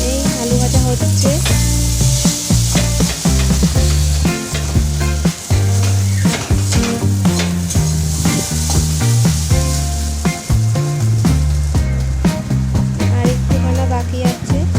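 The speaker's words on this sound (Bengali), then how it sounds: "এই আলু ভাজা হচ্ছে।" Sliced potatoes frying in a pan and being stirred, a loud, continuous close sizzle with scraping strokes, overlaid by steady tonal music-like sounds throughout.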